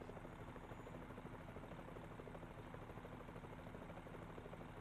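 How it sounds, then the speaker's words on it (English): A helicopter flies past in the American Truck Simulator video game, a steady low rotor drone that holds at an even level throughout with no talk. "There's the helicopter."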